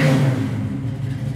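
Big-block 1968 Chevy Camaro V8 revving up close, a loud deep throaty roar that peaks at the start and then settles into a rumbling idle, with no voices over it.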